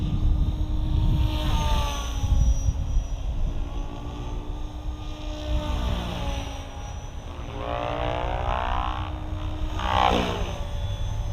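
An SAB Goblin RAW 580 RC helicopter flies at medium head speed in idle-up mode, giving a steady rotor and motor whine that sweeps up and down in pitch as it passes.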